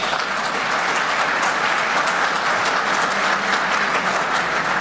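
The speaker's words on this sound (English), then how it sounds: "A big round of applause, please." Sustained applause from an audience at a women's conclave, a dense, even wash of many clapping hands running steadily throughout without a break.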